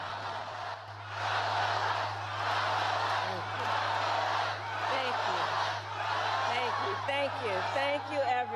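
A rally crowd cheers and roars for the vice president at a 2024 campaign event, loud sustained whooping and shouting with a steady low hum underneath and some voices rising through it.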